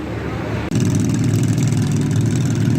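Diesel tractor engine at a tractor pull at an antique power show, a loud, close, steady low roar that jumps up in power after a brief dip and holds strongly to the end.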